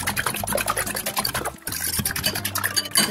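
A utensil scrapes and clicks quickly against a bowl while eggs and a pinch of salt are mixed together, with a wet sloshing under the brisk, irregular strokes.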